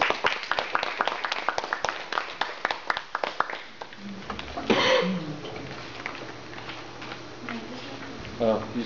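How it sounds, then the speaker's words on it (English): Audience applause for a first-time speaker's icebreaker speech at a meeting, a burst of close, sharp hand claps over the first few seconds that thins into scattered claps, followed by murmuring and noise. "let's give her a big round of applause."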